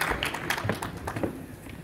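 Applause from an audience at a celebrity award ceremony, a steady dense patter of clapping that fills the short stretch at moderate loudness without pause.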